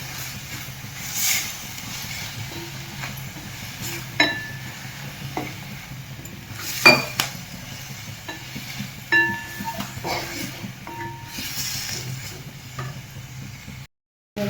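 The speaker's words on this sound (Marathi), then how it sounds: "कोथिंबीर पण आपण त्याच्यामध्ये परतून घेऊया" Chopped coriander sautéing in a pan with spices for a Satara-style urad dal ghut, a low, steady sizzle with scattered scrapes and clinks of a spoon, fairly quiet and without talk.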